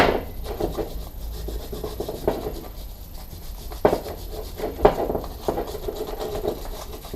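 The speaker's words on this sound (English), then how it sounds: "I'm just going to use a wire brush." Wire brush scrubbing a rusty, scabby brake caliper during a rebuild with new seals, a steady close scratchy rasping with quick back-and-forth strokes and a few sharper scrapes, no talking.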